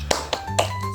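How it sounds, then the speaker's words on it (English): A classroom of children doing a focus clap: three sharp, separate claps in quick succession over about a second, with a low steady hum underneath and no talking. "Focus clap."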